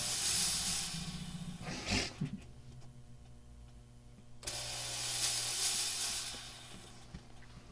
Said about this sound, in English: There's a fog machine.